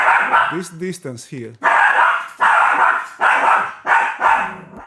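A dog barks in short bursts early on, close by and fairly loud, while someone talks steadily over it and afterward.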